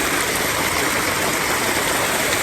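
A small mountain stream in the Upper Valais flows close by, a loud, steady rushing and gurgling of water that fills the whole moment without pause.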